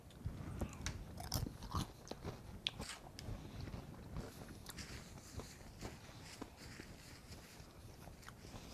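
Someone bites into and chews a crunchy cream cheese crab rangoon, with faint, close crunches and soft mastication over a low background and no speech.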